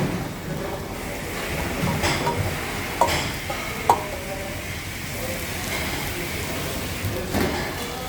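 Carrots sweat in a pan of still-melting butter, giving a soft, steady sizzle with a few faint stirring clicks and scrapes over about eight seconds, no voice heard.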